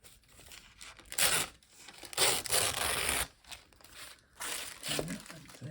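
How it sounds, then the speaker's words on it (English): Thin printed tissue paper and fabric are torn in several quick, crisp rips separated by short pauses, close and moderately loud, with a brief voice near the end. "Tearing paper and fabric."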